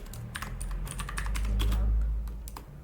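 Keystrokes on a computer keyboard while a GitHub username field is filled in, with a quick irregular run of clicks over a low steady room hum, moderately close and with no speech.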